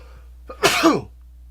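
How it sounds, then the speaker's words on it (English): A single sharp sneeze with a quick inhale leading into it, close and fairly loud against a quiet background. "I have to sneeze."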